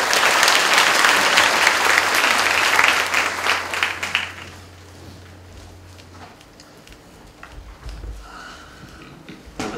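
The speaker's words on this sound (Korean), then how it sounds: "박수로 맞이해 주시기 바랍니다." A crowd at the 2015 Incruit job-recruitment fair in Korea applauds to welcome the keynote speaker. The clapping is loud and dense for several seconds, then fades into scattered claps and room noise.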